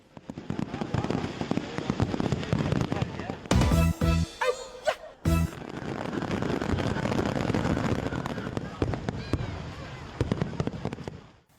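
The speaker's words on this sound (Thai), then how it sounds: "ตอนกลางคืนก็มีการแสดงแสงสีที่สวยงาม สดใส จุดพลุยิ่งใหญ่อลังการ" Festival fireworks display at night, a dense, continuous crackle and series of sharp bangs from the bursting pyrotechnics, heard loud and near, with a brief moment of talk partway through.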